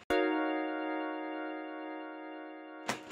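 A single sustained synthesizer minor ninth chord rings out steadily for nearly three seconds, then cuts off with a short burst of noise.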